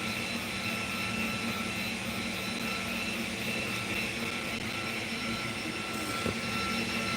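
A laser engraver with a rotary attachment hums steadily with a constant fan-like drone and faint whirring motor tones, close and even throughout, with one brief quick spin near the end.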